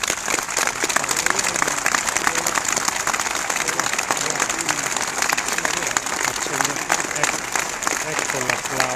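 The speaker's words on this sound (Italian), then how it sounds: "Ecco l'applauso" Sustained applause and crowd noise greet firefighters returning to their station, dense clapping running steadily throughout at a strong level, with voices mixed into the crowd.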